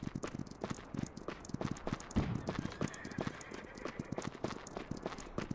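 Horses' hooves clip-clop steadily on the ground in the war video game Marque of War, several animals walking together in a dense, irregular rhythm, close and moderately loud, with faint voices underneath.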